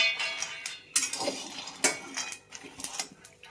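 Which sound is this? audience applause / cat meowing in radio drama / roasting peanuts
roasting peanuts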